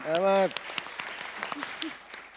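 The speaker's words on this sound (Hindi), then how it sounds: "अहमद शहजाद के लिए तालियां।" A short burst of speech gives way to scattered applause at a Pakistan Super League opening, sparse claps spread through the moment, moderately close.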